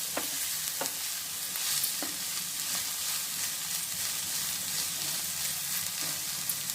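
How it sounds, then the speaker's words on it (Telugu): Green chilies fry in a pan for dosa batter, a steady broadband sizzle with occasional stirring clicks of a utensil, close and continuous with no talk. "మనం కొంతసేపు అట్లా వేపుకోవాలి"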